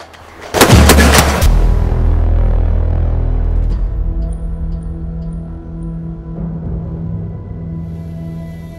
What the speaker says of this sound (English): This is the Armalite Super Sass 308. It's capable of firing 1/2-inch groups